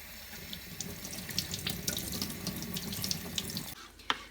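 Tap water runs steadily into a sink as an aubergine is rinsed under it, a continuous splashing stream that cuts off near the end, followed by a brief clunk.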